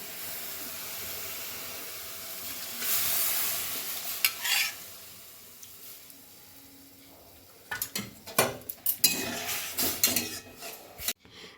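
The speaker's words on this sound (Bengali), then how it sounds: "দেখো, খুব সুন্দর ফুটছে এবং ঘন হয়ে গেছে।" Thickened milk boils in a pan, giving a quiet, steady bubbling simmer, followed by louder bursts of stirring and scraping toward the end.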